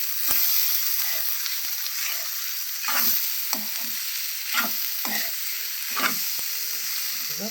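Amaranth leaves frying in oil with chilli powder, stirred in a pan: a steady close sizzle broken by repeated scraping strokes of a spoon every second or so.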